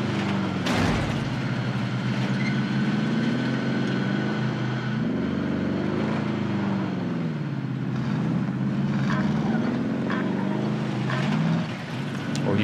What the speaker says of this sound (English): There's a heli.